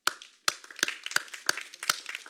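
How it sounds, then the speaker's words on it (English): A small round of applause at a city council meeting, with a few people clapping sharply and unevenly, close and fairly quiet, the claps ringing with short echoes in the room. "I want to give you guys a round of applause"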